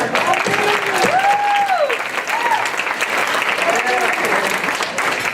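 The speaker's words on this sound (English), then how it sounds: "So everybody just clap for Molly." Crowd at a technology executive awards event applauds in a sustained, loud wash of clapping, while voices talk and call out over it.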